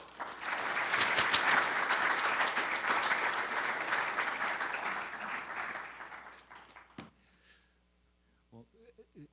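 Audience applause welcoming a lecturer at Providence College, a dense sustained clapping from a hall crowd that holds steady for about six seconds, then thins and fades out, followed by a short thump and quiet.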